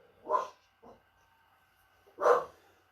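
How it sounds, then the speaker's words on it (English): A pet dog barks indoors in a living room, two loud sharp barks separated by a gap of more than a second, with a softer short yip between them, against a quiet background. "dog's barking. Must be something on the TV for her."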